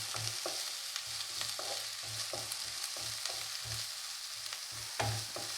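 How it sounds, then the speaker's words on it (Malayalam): Chopped onions sizzle in hot oil in a pan while a spoon stirs them in a steady rhythm of scraping strokes, each pass giving a soft thump over the continuous frying hiss, nearby and fairly quiet, no voices. "സവാള വരട്ടിയെടുക്കാം."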